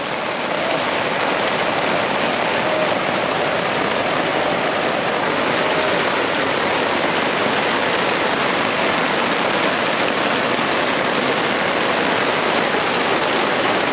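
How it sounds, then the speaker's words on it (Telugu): Heavy rain pours steadily at night on a camping trip, a dense, continuous hiss with no break or variation for the whole stretch and no voices. "ఉన్నట్టుంది ఫుల్గా వర్షం పడుతుంది."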